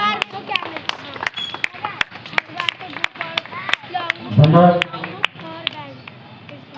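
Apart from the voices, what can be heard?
audience clapping at Independence Day celebration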